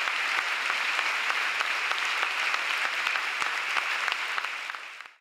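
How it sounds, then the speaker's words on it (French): Sustained applause from a concert audience paying tribute to an orchestra and late conductor, dense steady clapping throughout that fades out at the very end. "Ce concert véritablement extraordinaire a été salué par plus de 10 minutes d'applaudissements."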